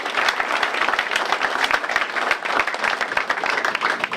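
An audience at a mayoral speech in Irvington gives school board members a round of applause, steady, dense clapping from many hands, loud and sustained for several seconds.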